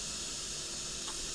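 A spray gun applies a second coat of epoxy primer to a Barra engine rocker cover from an FG Falcon, giving a steady, fairly quiet airy hiss that runs unbroken throughout.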